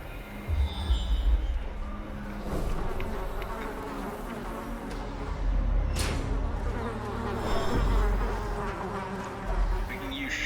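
A swarm of insects buzzes from a thronging hive in the Darkest Dungeon video game, a continuous dense droning hum with a sharper burst midway.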